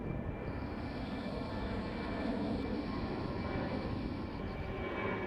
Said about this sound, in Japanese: 那覇空港は忙しい空港なので、ひっきりなしに飛行機の離発着を見ることができます。